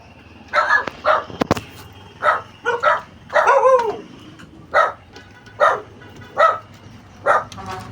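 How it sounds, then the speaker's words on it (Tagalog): A dog barks again and again at close range, roughly a dozen sharp barks spaced fairly evenly, with a quiet background between them. "mabait naman yung mga aso ko yan"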